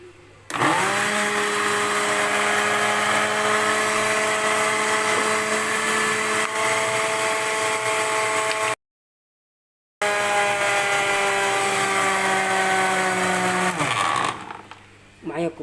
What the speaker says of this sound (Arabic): هضربها في الخلاط.